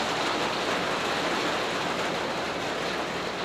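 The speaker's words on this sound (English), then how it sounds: "Here's the rain" Steady, dense rain falls outdoors as a constant loud hiss, with no break and no voices.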